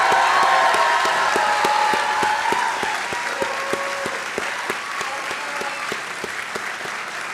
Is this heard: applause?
yes